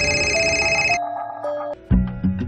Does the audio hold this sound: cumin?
no